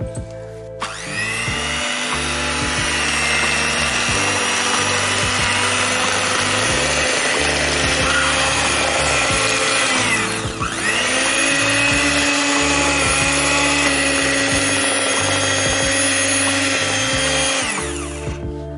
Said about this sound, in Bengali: এবারে আমি বিটারের সাহায্যে এটাকে বিট করে নেব।